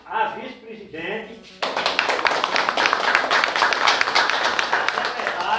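An audience at a thank-you ceremony breaks into dense, sustained applause right after a brief spoken introduction, with many hands clapping close and loud.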